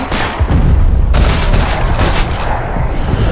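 Dense gunfire and booming grenade explosions in the video game Max Payne 3, loud and continuous with heavy low-end blasts throughout, no speech.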